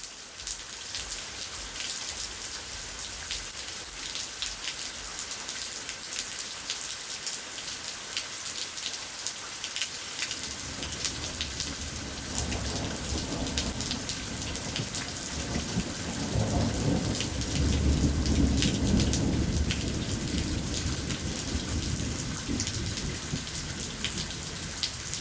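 A severe thunderstorm brings steady heavy rain pattering on surfaces throughout. Deep rolling thunder rises about halfway through and swells into a loud rumble near the end, with no voices.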